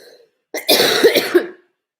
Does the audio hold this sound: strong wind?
no